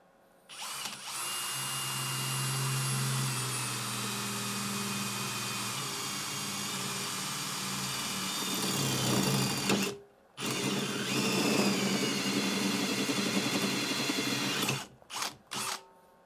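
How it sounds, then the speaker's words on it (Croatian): A Bosch Professional GSB 18V-65 cordless drill boring into 2 mm aluminium gives a loud, steady high-pitched whine. It runs unbroken for about nine seconds, then stops briefly, runs again, and ends in a couple of short bursts. "ovdje ćemo sada da izbušimo prvo u aluminijumu debljine 2 mm da vidimo kako radi"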